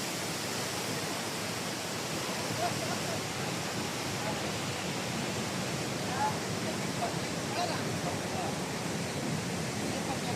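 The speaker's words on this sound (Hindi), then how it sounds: "और पानी बहते हुए नदी में इस तरीके से जा रही है" Damodar river water rushes out through four open gates of the Tenughat dam, a loud, steady broadband roar that holds unchanged for about ten seconds with no clear breaks.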